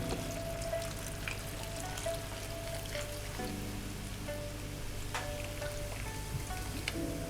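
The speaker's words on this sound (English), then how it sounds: "Last, I'm going to put this Coca-Cola." Coca-Cola poured into a wok of chicken wings with lemon, giving a steady, close fizzing hiss and crackle of soda hitting hot food that runs the whole time, with small bubbling pops.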